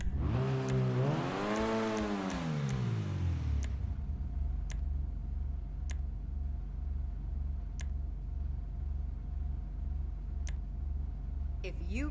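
A car engine in GTA 5 Online, a Progen Italy GTB, revs sharply up and down through its exhaust for a few seconds, then settles into a steady loud idle rumble with faint periodic ticks.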